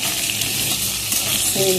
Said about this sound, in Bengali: কালো জিরাটা দিয়ে দিলাম এবার আলুগুলো সরিয়ে দিচ্ছি কালো জিরাটা ভাজা ভাজা হয়ে যাবে